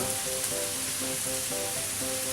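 Meat sizzles steadily in hot oil with onions and garlic, seasoned with kosher salt and pepper for chili, a constant close frying hiss with faint tonal hum beneath and no talking.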